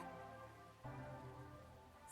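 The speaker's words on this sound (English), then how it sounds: "More rain." Steady rain falls in a video game, a continuous soft hiss of drops on surfaces with a low rumble underneath, constant and moderately loud with a slight swell partway through.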